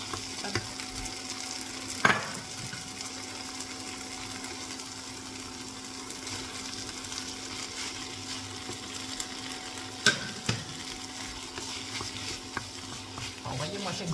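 Apples, apple compote and black pudding frying in a pan give a steady, soft sizzle with a few sharp clicks of stirring, close and alone.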